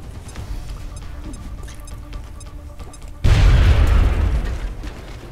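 A grenade goes off in X-Com Enemy Within: after a few seconds of quiet ambience, one sudden, loud, deep boom bursts out and rumbles as it fades over about two seconds.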